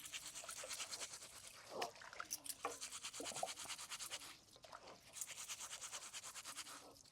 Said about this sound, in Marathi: आता आपण ती स्वच्छ पाण्याने दोन तीन वेळा धुवून घ्यायची अशी चोळून चोळून धुवायची